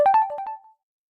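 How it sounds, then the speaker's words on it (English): A short electronic chime-like tone sounds during a live stream, several quick bright notes stepping along for under a second before cutting off into silence. "Something's ringing."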